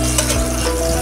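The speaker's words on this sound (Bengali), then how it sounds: "এই তো ডিমটা সুন্দর করে উল্টিয়ে পাল্টিয়ে ভেজে নিচ্ছি।" Eggs frying in a pan for egg bhuna, a dense, loud, continuous sizzle over one brief second with no pauses.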